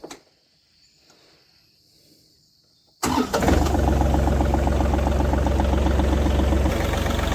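A tractor engine starts after a few seconds of quiet outdoor background, catching abruptly and settling into a steady, loud, close idle with a rhythmic mechanical chug, in an orchard ready for foliar spraying of jackfruit trees.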